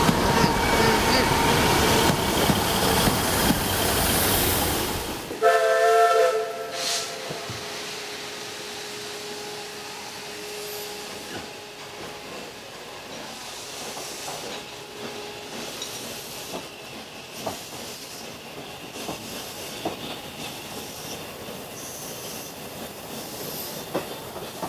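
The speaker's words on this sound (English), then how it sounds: "I suppose 2 carriages constitutes a train." A two-carriage Class 150 train runs along rails in Lincolnshire, a loud rushing roar that cuts off abruptly, then a lingering wheel squeal and a quieter rolling rumble with occasional clicks as it passes and recedes, with voices faintly present.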